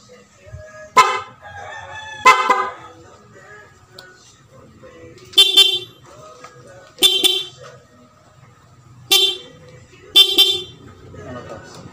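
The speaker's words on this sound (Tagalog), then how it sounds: "So lilipat siya doon sa malakas na busina natin, doon sa PIA horn." A loud, blaring PIAA dual-contact aftermarket horn on a Sniper 150 motorcycle sounds in six short blasts, in pairs and singles, with quiet engine idle and background noise between them.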